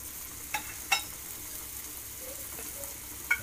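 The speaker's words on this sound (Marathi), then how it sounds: "तर 2-2 पीस भाजून घेऊया, कारण पीस मोठे आहेत" Coated pieces of halwa fish fry on a tava, giving a steady close sizzle with a few sharp spatters and clinks.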